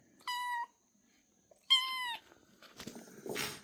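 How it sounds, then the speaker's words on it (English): A small kitten found outdoors gives two clear, high meows about a second apart, close and alone, followed by soft rustling and handling noises. "I start hearing these little meows"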